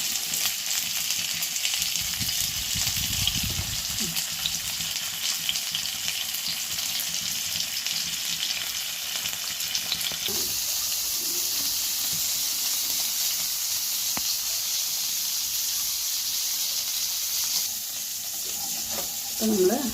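Sardines fry in hot coconut oil with curry leaves, a steady broad sizzle and crackle running the whole time, with a brief louder burst of bubbling early on and no talking.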